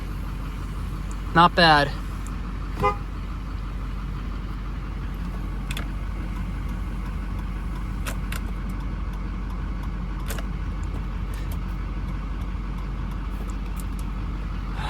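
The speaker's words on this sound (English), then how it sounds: "today's startup video on the 2006 Chevrolet 3500 work truck" 2006 Chevrolet Silverado 3500 HD work truck idling nearby, a steady low diesel rumble that holds throughout, with a brief spoken remark near the start.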